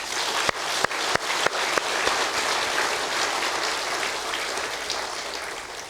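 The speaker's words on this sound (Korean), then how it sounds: "오늘 이 오신 5분들 주님의 이름으로 우리 크게 박수로 환영하십니다" A church congregation applauds to welcome newcomers: a few distinct opening claps swell into a steady, moderately distant wash of applause that slowly fades.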